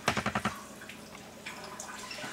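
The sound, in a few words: slow water flow dripping in water filter test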